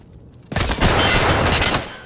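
Sudden burst of rapid video-game gunfire that starts abruptly and continues as a loud, dense, sustained volley for over a second before tapering slightly.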